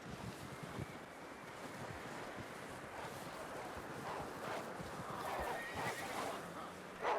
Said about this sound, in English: Let's get you on that horse.